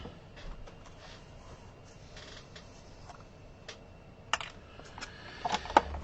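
Paper being embossed with a scoring tool and plate for a scrapbook album, a faint run of soft, quick taps and clicks, growing a little louder with a few sharper knocks near the end.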